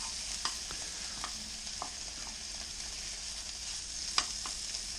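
Spring onions and garlic fry in a hot pan for quick fried rice, giving a steady close sizzle with a few sharp utensil taps and scrapes over it, and no talking.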